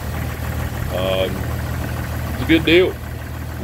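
The worn-out engine of an old Jeep idles with a low, steady rumble throughout, while someone talks over it.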